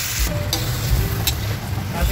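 Marinated pork hitting a pan with onions and garlic for pork menudo, a dense close sizzle with clattering stirring and spatula scrapes throughout, no voices.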